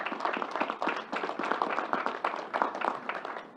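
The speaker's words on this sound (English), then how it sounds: "let's give Commissioner Ball and Troy a big round of applause for their good work." Faint, distant applause from an audience at a governor's news conference, a moderate group of hands clapping steadily for a few seconds.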